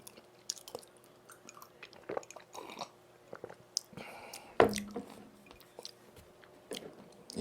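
Close, soft chewing of tteokbokki with chewy rice cakes, dumplings and fish cake, moist squishy bites and occasional crunches in irregular bursts against a quiet background.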